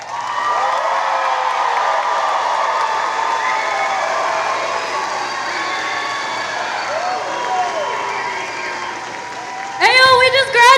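An audience applauding a high school graduating class at a ceremony, steady loud clapping and cheering that rolls on for several seconds before a burst of whoops and shouts at the end.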